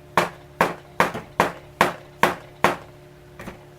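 Jars filled with thickening homemade lotion are banged down on a surface, eight sharp knocks in a steady rhythm, close and fairly loud, with no talking.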